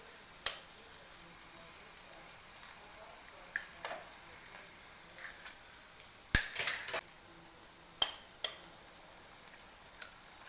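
Egg bhurji with onion and tomato frying in a pan at home, a soft steady sizzle broken by several sharp clicks and scrapes of a utensil stirring against the pan.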